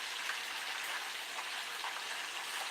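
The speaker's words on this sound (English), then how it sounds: "right now I'm frying catfish" Catfish frying in hot oil, a steady dense crackling sizzle like rain on a surface, close and continuous with no voices.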